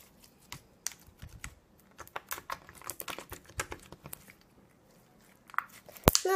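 Close, crisp crackling and popping in rapid irregular bursts as a glittery crunchy slime is squeezed and pressed, with a louder snap near the end.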